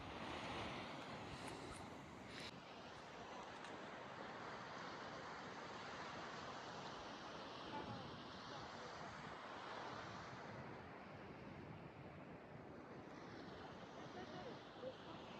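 Winter sea waves break steadily on a rocky Atlantic shore in Cantabria, Spain, forming a continuous broadband roar with wind mixed in, with no distinct breaks between swells.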